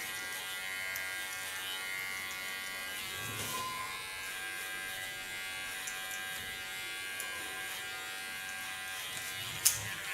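An electric hair clipper buzzing steadily while cutting hair, a constant close whine with small variations and a brief click near the end.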